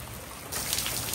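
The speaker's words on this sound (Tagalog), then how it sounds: "Grabe oh, lakas ng ulan." Heavy rain pours down outdoors, a steady broadband hiss that grows noticeably louder and denser about halfway through, with no voices over it.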